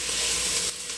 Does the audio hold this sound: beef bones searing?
yes